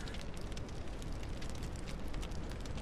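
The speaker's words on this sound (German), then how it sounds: "Oh, hört mal, wie der Wind hier reinpfeift" Wind whistling and rushing steadily through an opening in the video game No One Survived, a dense, continuous broadband roar that stays even and unbroken from start to finish with no voices.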